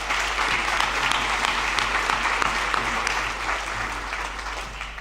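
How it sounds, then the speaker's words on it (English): A scholarship night audience in a hall gives a dense, steady round of applause that fills the whole clip, with no talking over it. "let's give them one more round of applause for their contribution to your lives"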